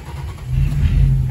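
A 1976 Plymouth Fury's engine catches and fires up, a short low rumble swelling into a steady run, close and moderately loud.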